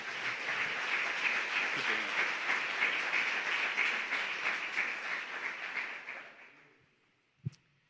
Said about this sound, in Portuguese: Nós podemos aplaudir o Senhor por isso?